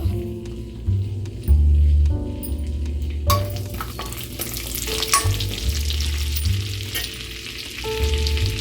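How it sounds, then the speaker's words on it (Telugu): Cumin seeds and curry leaves fry in melted butter in a pan, a close, steady sizzle with crackles and the scrape of stirring, and a louder burst of spitting partway through. "ఇదండి, బటర్ మెల్ట్ అయింది. ఇప్పుడు ఇందులోకి కాస్త జీలకర్ర వేసాను. అదేవిధంగా కరివేపాకు,"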